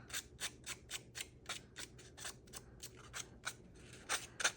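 A sanding disc rubbed quickly across cardstock, giving a dense run of short, scratchy, rhythmic strokes, close and fairly loud with no talking.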